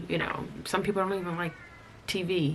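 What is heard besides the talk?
cat meowing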